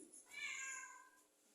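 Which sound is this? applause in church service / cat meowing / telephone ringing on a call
cat meowing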